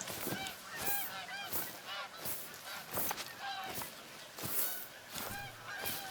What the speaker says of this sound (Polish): Czy gęsi, gęsi są.